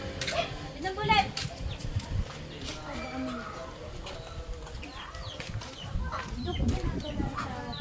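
Chickens cluck and squawk intermittently nearby at an outdoor boodle fight meal while people talk over them in Filipino.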